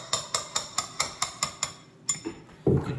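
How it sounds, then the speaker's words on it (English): A hammer striking a crowbar to pull staples during hardwood floor work, about a dozen sharp metallic taps in a steady rhythm, close and loud, ending in a heavier clunk. "You could tap on it with the crowbar and the hammer, get a staple out at a time that way."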